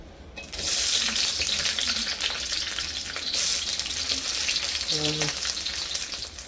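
Garlic sizzles loudly in a hot pan for chicken fritada, a dense continuous hiss with stirring and a few light clinks, and no talk over it.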